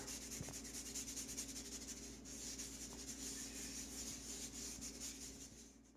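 Charcoal from Derwent charcoal pencils rubbed steadily into shading on a drawing, a continuous soft scratchy friction that runs for about six seconds without pause, close and moderately loud.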